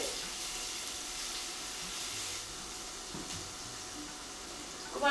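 Onion and cumin seeds browning in hot oil in a pan make a steady, close sizzling hiss that softens slightly midway and stays continuous throughout.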